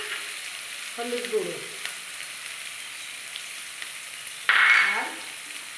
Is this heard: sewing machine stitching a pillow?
no